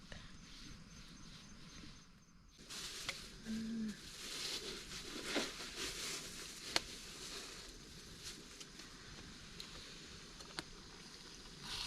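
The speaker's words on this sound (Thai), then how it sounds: "ฝนตกมาแล้วพอดี5 โมงฝนตก" Rain falling on a farm field in the evening, a soft continuous patter of drops with scattered louder ticks and faint background sounds, no talking.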